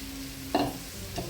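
Sliced, freshly washed mushrooms hit a hot pan with a brief clatter and a burst of sizzling, followed by a second small clink, over a faint steady hum.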